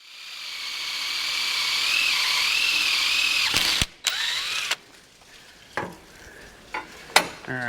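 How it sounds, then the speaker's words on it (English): A power drill bores an 8mm hole through a steel yoke for a roll pin, whining steadily for several seconds, then stopping and restarting in short, sharp bursts up close. "we gotta drill a hole for a roll pin to go in here and lock it in place"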